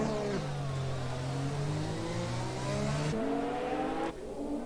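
A Formula 1 car engine in the F1 2020 racing game at the Monaco Grand Prix screams loud and close, its pitch climbing steadily with quick gear-shift dips, then rising again.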